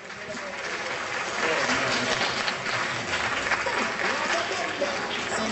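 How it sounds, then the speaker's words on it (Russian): At a Russian bodybuilding and fitness championship, a large crowd gives a fitness champion a sustained, dense round of applause that holds steady throughout, with faint voices mixed into the roar. "Аплодисменты чемпионке."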